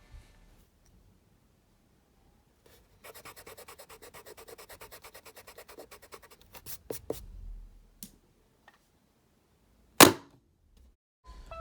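An eraser scrubs pencil marks and loosened gunk off a school desk in a run of quick rhythmic rubbing strokes, followed by scattered scrapes and a sharp knock, all close and otherwise quiet.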